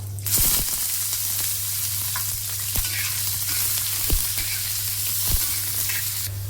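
Cumin, curry leaves and onion sizzling in hot oil for a Vidarbha-style cauliflower dish, a steady close crackling hiss throughout with a few sharp pops and clinks of a spoon against the pan.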